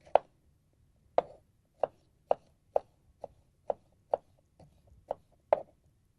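A knife chops onions on a cutting board in about a dozen sharp, evenly spaced strikes, close and clear, with no talking.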